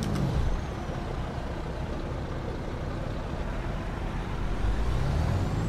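Kenworth K100 truck in American Truck Simulator releasing a loud burst of air brake hiss, carried on a steady low diesel rumble that swells again at the end; no talking.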